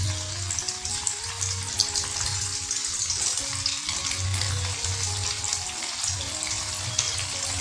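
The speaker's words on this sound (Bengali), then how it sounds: "এবার কেটে নেওয়া পনিরগুলোকে গরম তেলের মধ্যে হালকা করে ভেজে নিলাম।" Cut paneer cubes fry lightly in hot oil in a wok, making a constant crackling sizzle close by. Low bubbling pulses run beneath it, with no talking.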